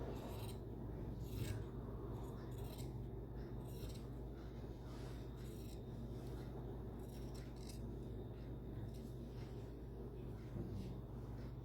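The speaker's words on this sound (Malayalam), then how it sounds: "ഇവിടുന്ന് ഈ താഴേക്ക് നമ്മൾ കട്ട് ചെയ്തെടുക്കാം." Scissors cut through nightie fabric at close range, giving a quiet, steady run of snips and soft rasping scrapes over a faint background hum.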